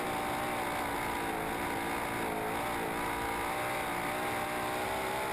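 A loud, continuous roar of a sprint car engine at full throttle at the World Sprintcar Championship, steady and high-revving beyond 8,000 RPM throughout with no pauses.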